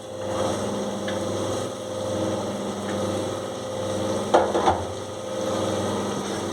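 Onions frying in a couple of spoons of oil give a soft, steady sizzle over a low background hum, with a brief clatter of stirring near the end.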